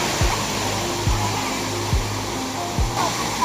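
The Veer perennial waterfall pours in a continuous loud roar of rushing water close by, with a few sharp low thumps recurring at regular intervals beneath the steady wash.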